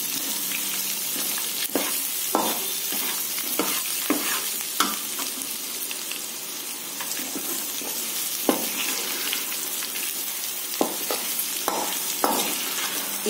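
Turmeric sizzles steadily in hot oil in a pan for tamarind kuzhambu, with a constant frying hiss broken by sharp clicks and scrapes of a stirring spoon.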